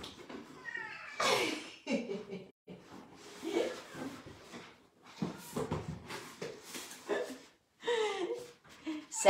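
A house cat that has just tumbled out of a small box meows several times, its cries mixed in with a person talking and a few soft household bumps.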